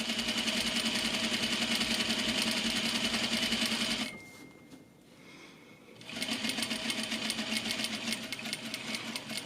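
A sewing machine runs steadily at close range, stitching an exposed zipper into a garment at regular stitch length, with a fast even whirr that stops for about two seconds before resuming.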